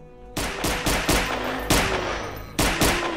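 Rapid gunfire rings out in a first-person shooter, a fan-made Resident Evil 2 mod built on Half-Life 2, with about six loud, punchy shots spaced irregularly, each leaving a short ringing tail.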